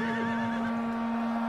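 Horses neigh and whinny amid a Medieval Kingdoms 1212 battle where heavy horse archers trade fire, a loud, steady cry over a continuous low drone with no talking.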